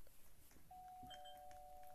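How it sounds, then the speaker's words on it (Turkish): Doorbell chime in the Roblox game Brookhaven: a single clear electronic ding holding a steady tone for over a second, fairly loud against quiet background noise, with no talking. "Zil çalıyor."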